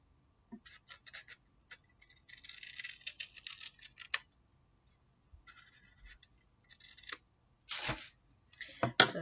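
Scissors snip through folded craft paper to round off its corners for a paper hedgehog, giving a run of short, crisp, close cuts and rustles with pauses between bursts, with no voices.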